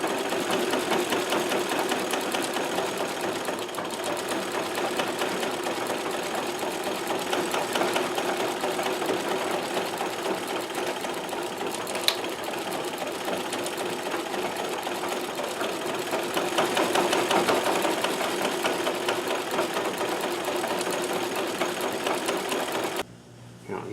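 A Singer 237 sewing machine stitches in a steady, rapid mechanical chatter that runs close and continuous for nearly the whole stretch, stopping abruptly at the very end.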